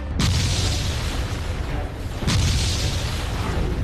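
Explosions during an armed encounter in Nagrota, Jammu and Kashmir: two heavy booming blasts a couple of seconds apart, loud and rumbling, with a sustained roar between them.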